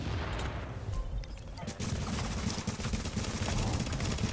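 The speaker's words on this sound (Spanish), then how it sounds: "te tiro un disparo en la cabeza" Gunfire in the video game Tom Clancy's The Division on PS4, during a player-versus-player match: a dense, steady stream of rapid shots running the whole time, with people talking over it.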